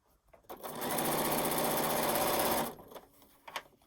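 A close sewing machine runs one steady two-second burst while stitching along the folded edge of a quilt binding, with soft handling sounds before and after.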